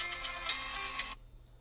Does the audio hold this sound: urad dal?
no